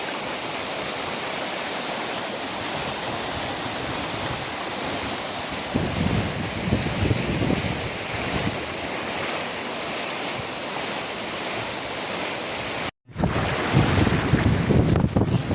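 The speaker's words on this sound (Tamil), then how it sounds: "காணிகளுக்கு இப்படி தண்ணி வந்து பாய்ந்து கொண்டிருக்குன்னு சொல்லி பயங்கரமாக இருக்குது" Floodwater rushing across land in Koorai Aathimottai village, Mannar, Sri Lanka, a loud, continuous roaring wash of water with wind buffeting the microphone, broken once by a brief dropout.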